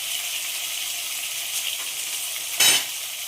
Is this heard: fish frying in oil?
yes